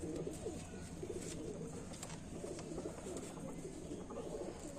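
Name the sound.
pigeons cooing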